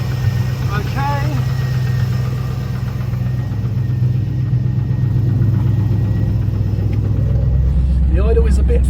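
A carbureted LS engine swapped into a second-generation Pontiac Firebird idles steadily, a loud, close, even rumble that barely changes throughout, with someone talking over it.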